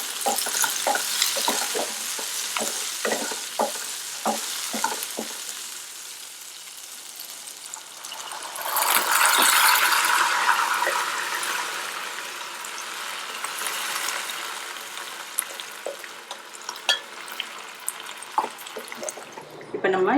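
Cooked snake gourd and lentils poured into a pan and stirred for a Tamil kootu, with repeated utensil scrapes and taps, a brief rushing pour in the middle and a soft bubbling underneath.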